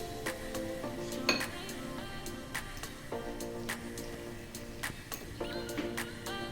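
A spoon mixes batter with onion and spinach in a bowl, giving faint, irregular clinks and scrapes against the bowl at a quiet, unhurried pace.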